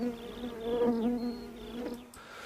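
Honeybees buzz steadily as they land on a saucer of food set out away from the hive, a close continuous droning hum with shifting pitch, no voices.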